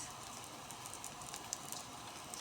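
Food frying in a pan gives a steady, close crackling sizzle with dense, even spitting and occasional sharper pops, heard alone with no talking.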